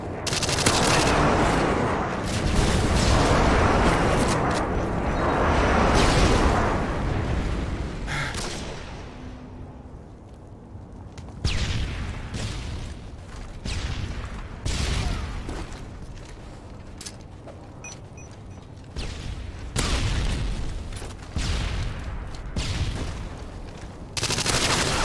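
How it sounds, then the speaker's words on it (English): Rapid gunfire bursts and heavy airstrike booms in Call of Duty: Modern Warfare 2 on the Afghan map, loud dense volleys that briefly thin out midway before more shots and blasts resume. "Friendly airstrike inbound."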